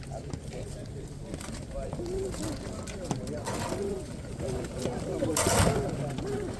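Pigeons coo repeatedly at a busy open-air pigeon market in Radom, where fancy and homing pigeons are on sale, their low burbling calls sitting under steady crowd chatter and background bustle.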